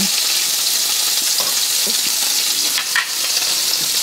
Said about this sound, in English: I think it's sizzling because I got some of the water in there